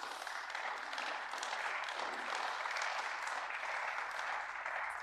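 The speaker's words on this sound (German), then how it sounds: "Bitte den Beifall im Protokoll zu vermerken" Steady applause fills a parliamentary assembly in Strasbourg during a German-French session. Many hands clap together as a sustained, even roar for several seconds, without any speech over it.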